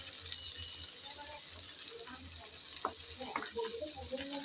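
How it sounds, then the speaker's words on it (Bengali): Neem leaves and eggplant fry in a pan with a steady, moderate sizzle, and a spatula stirs and scrapes through them with a few brief clinks and knocks. No one speaks. "আবারও ঢাকনা উল্টিয়ে নেড়েচেড়ে মিশিয়ে নেব বলে চলে আসলাম।"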